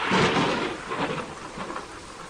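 Thunder rolls in a deep, rumbling boom over the steady hiss of heavy rain, fading gradually into the downpour.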